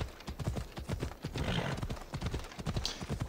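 Quick, steady clip-clop of horse hooves in the video game Assassin's Creed Odyssey, close and fairly loud, with a brief whinny in the middle.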